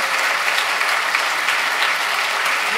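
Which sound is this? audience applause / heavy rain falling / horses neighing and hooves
audience applause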